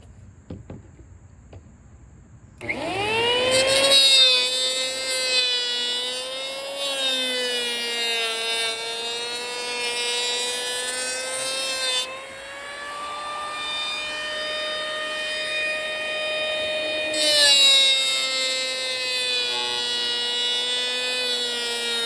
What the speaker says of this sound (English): I'll just take this line off with my little Ryobi hand planer